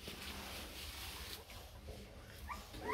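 A chubby Rottweiler puppy whimpers faintly with thin, high whines that grow sharper toward the end, against a quiet background.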